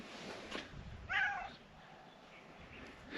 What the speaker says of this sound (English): Meow. You're just a happy kitty.